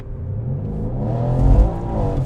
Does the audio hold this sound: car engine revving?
yes